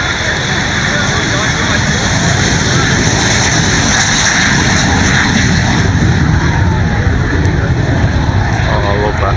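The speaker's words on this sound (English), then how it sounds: "the Vampire taking off from the left" A de Havilland Vampire jet taking off during an air display at Cosford in 2009, producing a loud, sustained, rushing jet roar that dominates throughout without letting up.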